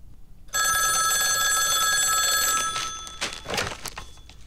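An old-style telephone bell rings loudly in a thriller film, a steady metallic trill holding for about two seconds before cutting off, followed by brief rustling and movement noises.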